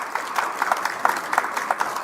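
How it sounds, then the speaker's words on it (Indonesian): Audience applause breaks out in a formal Indonesian government hall after an official's speech on the 2026 state budget, a steady, dense clapping from a sizeable crowd with no talk over it. "Terima kasih yang tepuk tangan"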